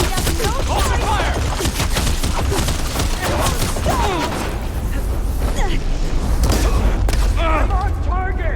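Dense rapid gunfire and booming blasts in the video game Horizon Forbidden West, a loud continuous barrage of shots and impacts mixed with clanking machine noises, with voices shouting over the fight.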